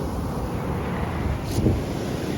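Waves wash up onto a beach being dredged, a steady broadband rush of water with wind noise on the microphone and a brief swell in the surge midway.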